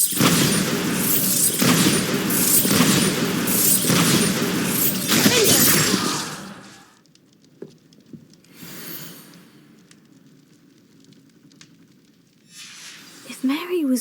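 A Bombarda explosion spell cast in the video game Hogwarts Legacy makes a loud, dense blast with rumbling debris for several seconds, then cuts off into a quiet stretch with faint scattered game sounds.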